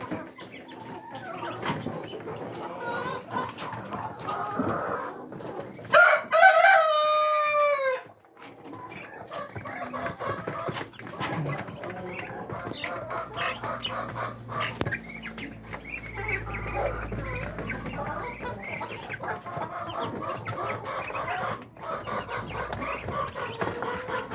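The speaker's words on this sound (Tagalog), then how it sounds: "Papakita ko sa inyo ang ating mga alagang mga Muscovy ducklings at Rhode Island chicks" Muscovy ducklings and Rhode Island chicks in a backyard farm chirp and cluck continuously at close range, with a brief burst of loud, high peeping around the middle.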